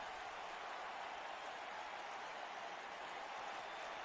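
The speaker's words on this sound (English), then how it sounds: "firmly cheering for Bray Wyatt." A WWE 2K19 arena crowd at a Raw show roars and cheers without pause, a dense, loud wash of many voices that stays even throughout.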